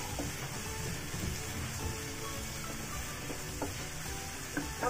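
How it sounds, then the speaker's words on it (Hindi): Cumin, coriander and red chilli powder roast in a hot pan for an amla sabzi, giving a steady close sizzle with soft crackles and faint stirring scrapes throughout, no talking. "और इसको थोड़ी देर और भूनेंगे।"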